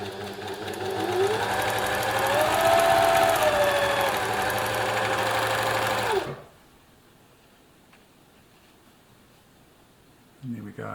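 A serger overlocker stitches a narrow 3-thread test seam, a fast, loud mechanical whirr lasting about six seconds with its pitch rising and falling. It then stops abruptly, leaving near silence before a brief noise at the end.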